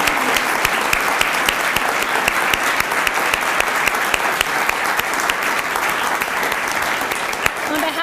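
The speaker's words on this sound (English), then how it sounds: "So please give another round of big applause for all the award recipients." Audience applause for award recipients at a chamber of commerce education awards event, a loud, dense and sustained wash of many hands clapping that holds steady from start to finish.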